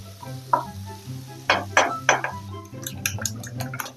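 A sautéed garlic-onion mix is tipped into a beaten egg frying in oil, giving a few close splashy sizzles and scrapes followed by steady crackling, with soft talk in the background.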